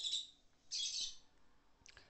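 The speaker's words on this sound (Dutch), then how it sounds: "Dus af en toe zul je... Coco, zoals de vogel heet, wel horen." Coco, a pet bird, gives three loud, harsh squawking calls close by, the first two drawn out and the last shorter, separated by near silence.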